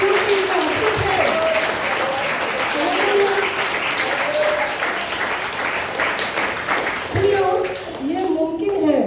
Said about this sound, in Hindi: अगर ताली बजा रहे तो प्रभु के लिए जोरदार बजाओ,